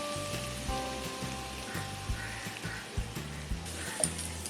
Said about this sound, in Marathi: आणि छोटंसं 1 ग्लास पाणी आपण घालूया.